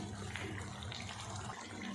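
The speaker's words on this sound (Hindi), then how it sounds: "अब इसमें हम आधा कप जितना पानी भी डाल देते हैं" About half a cup of water is poured into a pan of chicken karahi with yogurt, giving a steady, soft splashing gush that lasts a couple of seconds with no talking.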